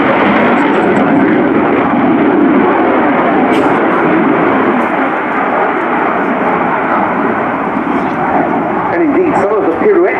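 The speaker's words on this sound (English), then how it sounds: "some of the pirouette manoeuvres that Vincent applies, very reminiscent of some of the figures that you'd expect from a thrust vectoring aircraft" A Swiss Air Force F/A-18C Hornet flying a display at RIAT 2018 makes a loud, continuous jet roar that holds steady for the full ten seconds, with a broad, heavy rumble and no breaks.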